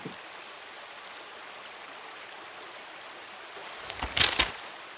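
River water flows in a steady, moderately quiet rush that continues throughout, with a short burst of louder splashing near the end.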